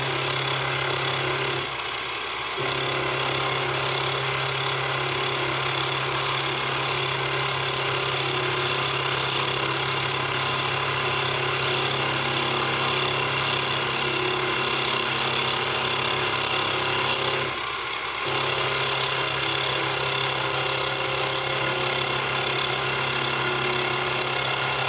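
Square stock spins in a lathe's 3-jaw chuck as it is turned round, a loud steady hum with a rough scraping cut layered on top, broken by two brief pauses.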